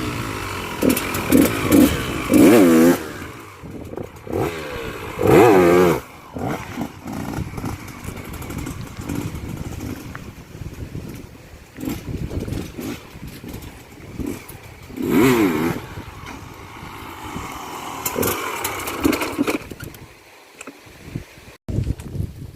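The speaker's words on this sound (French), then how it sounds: "quand vous accélérez, vous levez, vous lâchez l'embrayage d'un coup." Motorcycle revving hard as the clutch is dropped for a wheelie, loud repeated engine surges and throttle blips rising and falling over about twenty seconds, close by with no talk.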